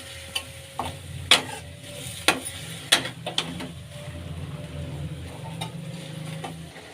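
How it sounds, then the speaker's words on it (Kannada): A spoon stirs tamarind juice and jaggery into bitter gourd in a pan, with several sharp scrapes and knocks against the metal over a low background sizzle, close and without talk. "ಹುಣಸೆಹಣ್ಣು ರಸ, ಬೆಲ್ಲ. ಈಗ ಮಿಕ್ಸ್ ಮಾಡ್ಕೊಳ್ಳೋಣ."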